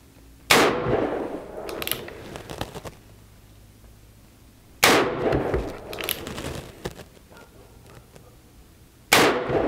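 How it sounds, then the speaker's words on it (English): A Cimarron 1875 Remington Outlaw revolver fires at a small round target ten yards away: three loud, sharp shots spaced roughly four seconds apart, each followed by a short ringing decay and faint clinks between. "So let's go ahead and give it a couple accuracy shots."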